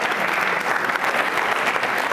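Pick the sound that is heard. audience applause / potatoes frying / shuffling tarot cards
audience applause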